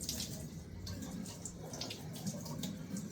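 Cold tap water running steadily over a split salmon in a kitchen sink, a continuous close splashing rush with no talking.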